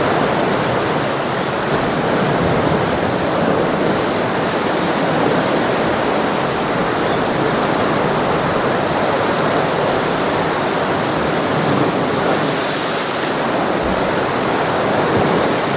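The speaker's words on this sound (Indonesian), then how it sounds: "Nah, ini ombak pertama." Loud, sustained roar of ocean waves breaking on a shore, a dense continuous wash of surf that swells slightly near the end, with no talking over it.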